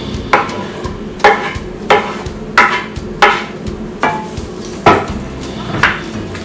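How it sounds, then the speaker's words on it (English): Chopped onions stir fried in a pan, with repeated scraping and knocking of a utensil against the pan at a steady rhythm over a low background rumble. "we just stir fry it,"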